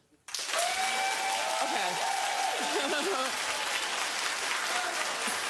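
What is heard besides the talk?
studio audience clapping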